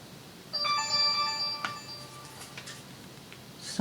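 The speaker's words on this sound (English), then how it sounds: "Sorry about my phone." A mobile phone ringtone plays a short bright melodic chime for about a second, fairly close in a quiet room, then fades to faint background noise.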